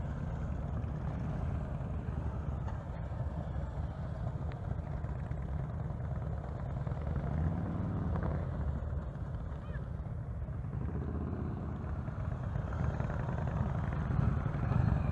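A heavy 900 lb motorcycle crawls at low speed while the rider slips the clutch, giving a steady, fairly loud low engine rumble that swells slightly toward the end.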